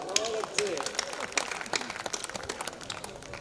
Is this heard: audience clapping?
yes